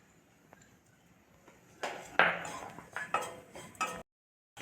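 Grated coconut is dry-roasted in a pan, starting quiet and then giving a few scraping stirs and light metallic clinks of a utensil against the pan before stopping abruptly.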